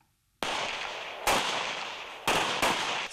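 Three sharp rifle or pistol shots crack out at a shooting range during a law-enforcement marksmanship championship, each a loud close report followed by a ringing decay.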